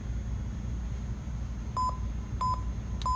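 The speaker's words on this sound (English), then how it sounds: "the engine started to beep at us" A Lionel LionChief Plus Santa Fe Hudson model train engine gives three short, clean electronic beeps at spaced intervals over a faint low background hum.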